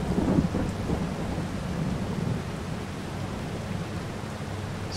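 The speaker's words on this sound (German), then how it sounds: "Was für ein Gewitter." A thunderstorm in the video game Farming Simulator 22: a low thunder rumble swells at the start, then fades into a steady wash of heavy rain, with no voices.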